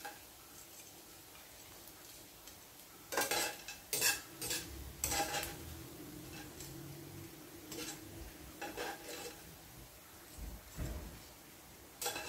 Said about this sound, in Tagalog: ganyan lang yung pagprito ng anchovy